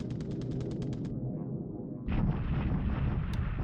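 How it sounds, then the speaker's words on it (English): Bombing in the War in the Pacific Admiral Edition strategy game: a quick run of sharp, rattling bursts gives way to a heavier, rumbling blast that keeps roaring to the end. "he's bombing us there"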